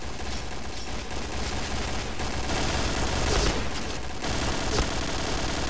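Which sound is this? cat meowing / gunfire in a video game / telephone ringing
gunfire in a video game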